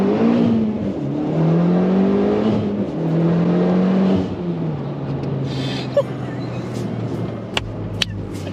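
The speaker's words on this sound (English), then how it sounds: "when you break loose all four tires spinning on the dry" A Mitsubishi Evo X accelerates hard from a launch with all four tires spinning on dry pavement, its loud engine note climbing through rising revs and shifting, then settling into a steady drone with a few sharp clicks near the end.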